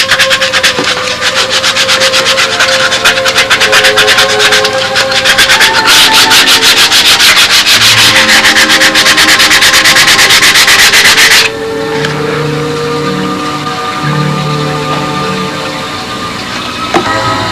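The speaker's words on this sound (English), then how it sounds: "just take a sanding block, get it all nice and screwed up" Steady, loud rasping of a sanding block rubbed back and forth for about eleven seconds, then a quieter, softer scraping continues to the end.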